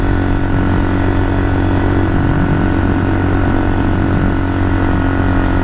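A 1978 Kawasaki KL250 motorcycle with a newly installed carburetor drones steadily while being ridden on a cold day, its engine loud and close in a constant, even hum without breaks.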